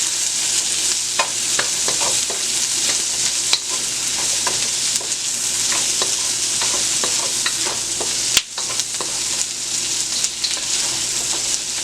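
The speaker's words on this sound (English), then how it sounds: "I'm going to add the onions in first and just stir that up a little bit." Onions softening in a hot pan for sweet and sour pork chops, with a steady close sizzle throughout and frequent scraping clicks of a utensil stirring them, plus one sharper knock near the end.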